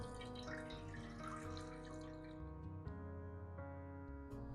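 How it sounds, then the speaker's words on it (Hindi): Leftover water is poured into a cooking pot while making chutney, giving a soft continuous splashing trickle that is quiet and close, with a few small drips near the end. "पतीली में डालेंगे बाकी का बचा हुआ पानी, सारा डाल देंगे"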